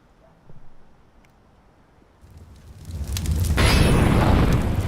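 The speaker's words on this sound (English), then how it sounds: "Throwing flashbang." In Counter-Strike, a flashbang grenade goes off, a loud burst after near silence that swells into a sustained roaring rush and carries on to the end.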